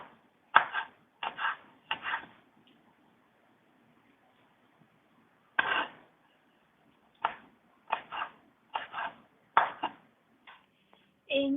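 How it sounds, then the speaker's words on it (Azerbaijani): A knife chops soaked black prunes on a board in crisp clusters of quick cuts, a short burst, a pause, then several more rapid bursts, close and clear against a quiet kitchen. "İndi onu xırdalayıram. Bu formada bıçaqla xırdalayıram."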